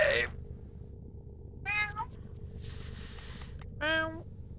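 A cat gives a couple of short, clear meows a few seconds apart, close and fairly quiet, over a low background hum.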